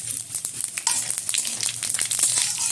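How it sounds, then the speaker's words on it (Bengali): Bay leaf, whole cumin, a dry red chilli and whole garam masala spices crackle and sizzle in hot oil in a pan, a steady close frying hiss with scattered sharp pops throughout. "তেলটা গরম হয়ে গেছে, তেলের মধ্যে দিয়ে দিচ্ছি কয়েক টুকরো এই যে তেজপাতা, কিছুটা গোটা জিরে, একটা শুকনো লঙ্কা"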